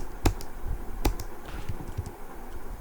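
Someone types on a computer keyboard during Python programming lab work: a few sharp, close keystrokes, then lighter, sparse taps, with no voices.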